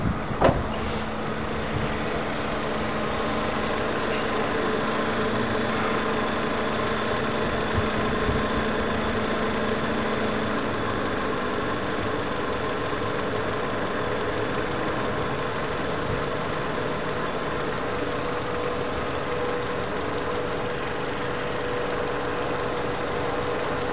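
A 1992–95 Honda Civic EG hatchback engine idles smoothly and steadily for a long stretch, a constant low hum with even tone and no revving.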